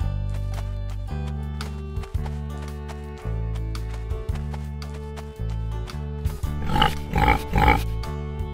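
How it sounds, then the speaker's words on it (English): A pig grunts and oinks in a short burst of snorts near the end, over a bouncy children's music backing track. "Pig."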